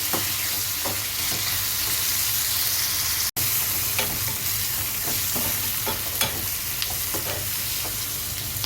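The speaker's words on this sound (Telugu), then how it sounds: "ఈ టమాటా ముక్కల్ని కూడా బాగా ఆయిల్లో మగ్గనివ్వాలి." Tomato pieces fry in oil in a pan for a mushroom masala curry, giving a steady close sizzle and crackle with scattered stirring clicks and one brief cut midway.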